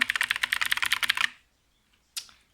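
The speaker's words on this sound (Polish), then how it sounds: "Hiker klawiatura mechaniczna X-Rage Pro" Rapid typing on a Hiker X-Rage Pro mechanical keyboard, a dense run of crisp key clacks for over a second, then silence and one last louder keystroke.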